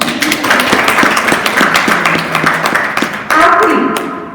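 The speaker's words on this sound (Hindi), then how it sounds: "थोड़ी सी तालियां मैं अपने लिए भी बजा दूँ" Scattered audience clapping fills a school's International Women's Day celebration at KV Khairagarh, running steadily for a few seconds before a louder, fuller burst of applause near the end.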